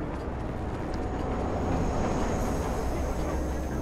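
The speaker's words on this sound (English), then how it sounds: "Ooh, train." Train rumbling past in the video game Watch Dogs, a steady broad roar that holds evenly throughout at moderate loudness, with no talk over it.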